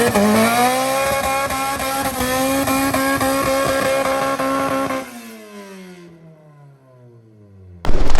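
A Subaru fitted with a Precision 6062 turbo holds a loud, high steady rev during a reverse burnout, then the engine note winds down and fades before a sudden loud burst at the very end.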